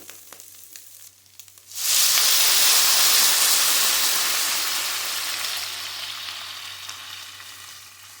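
Chicken and vegetables in a pan burst into a loud, steamy sizzle as stock is poured in for a chicken vegetable soup, after a quieter simmer; the hiss then slowly fades but keeps going.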